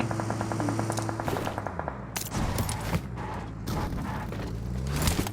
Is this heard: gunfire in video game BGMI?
yes